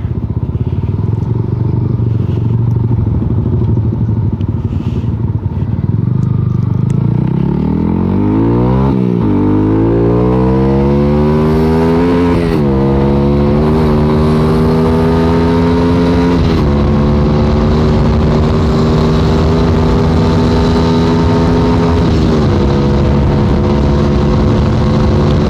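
A Yamaha Jupiter MX motorcycle with a 62mm bore-up engine roars close and loud, its engine pitch climbing steadily as it accelerates through the gears with brief dips at shifts, continuous over strong wind rush.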